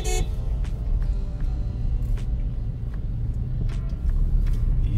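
Jammed traffic at Tati One chowk in Raipur churns with a constant engine rumble. Brief car horns toot at scattered moments throughout, and no one speaks.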